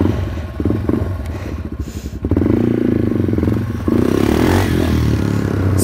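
Yamaha TW200 dual-sport motorcycle on the street with new handlebars and risers, the single-cylinder engine chugging and revving up through gears, close and loud, with some wind and rattling.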